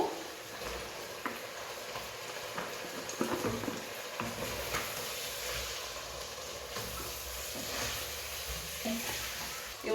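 Seasoned chicken pieces and chopped onion fry in a pan with a steady, fairly quiet sizzle and occasional stirring scrapes, continuous throughout without talk.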